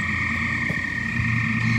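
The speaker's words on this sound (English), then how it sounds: "we're gonna have a whole bunch of frogs" A backyard pool full of frogs keeps up a loud, unbroken trilling chorus, with a few deeper croaks and a low rumble beneath, heard up close without any voices.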